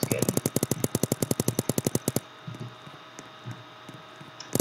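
A minigun in the paintball video game Big Paintball fires a fast, even stream of about twenty sharp shots for two seconds, then cuts off, leaving quiet background with a few faint thumps and a last short burst at the end.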